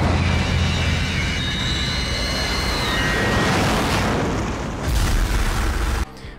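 Comet-powered firebending blast from the Netflix Avatar series, a sustained roaring boom of fire that fills the whole clip with heavy low rumble, then cuts off abruptly near the end.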